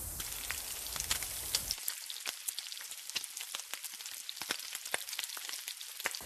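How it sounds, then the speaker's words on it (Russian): Marinated vegetables sizzle on a grill grate, a steady crackling fry full of sharp pops and spits, after a brief heavier rush at the start, close and fairly loud. "Для этого мы просто положим на решетку и обжарим с обеих сторон."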